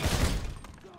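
A burst of gunshots at a shooting gallery in GTA V, rapid sharp reports crowding together at the start before fading into a short tail, fairly loud.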